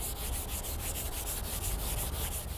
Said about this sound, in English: just if you can't see for yourself, just hear it